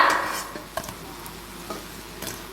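Potato- and red-lentil-stuffed fritters crackle and sizzle in hot oil as they are stirred and lifted out, with a soft steady hiss broken by a few sharp utensil taps.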